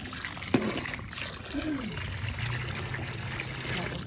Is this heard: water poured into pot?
yes